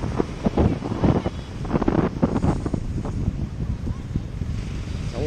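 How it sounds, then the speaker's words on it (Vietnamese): Strong wind buffets the microphone in heavy gusts at Nha Trang beach, with big sea waves rumbling and crashing underneath and a voice talking at times. "Sóng ầm ầm."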